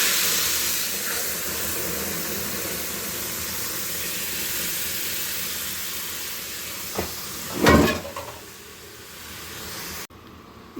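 Ground dosa chutney paste goes into hot oil with crackled cumin seeds, a constant loud sizzling hiss that bursts into a sharp spattering surge before cutting off abruptly.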